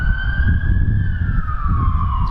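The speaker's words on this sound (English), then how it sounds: "An ambulance." Ambulance siren wailing steadily nearby, its tone sliding slowly lower as the vehicle passes, with low traffic rumble underneath.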